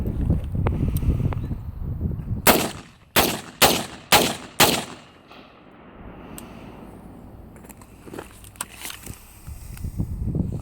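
Five loud, sharp outdoor shots from a Radical Firearms AR rifle with an adjustable gas block, fired semi-automatically in a quick, even string, then wind noise and faint rustling afterward.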